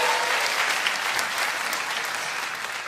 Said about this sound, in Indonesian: Tepuk tangan untuk Kongguan